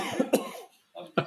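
Several close, sharp coughs in quick succession, a brief pause, then one more cough.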